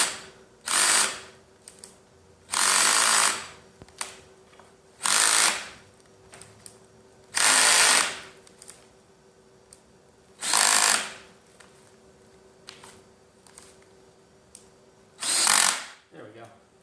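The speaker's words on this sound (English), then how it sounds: "Need a little more torque." A power drill drives screws with a star bit during office chair assembly, in six separate loud whirring bursts of about a second each, separated by quiet pauses.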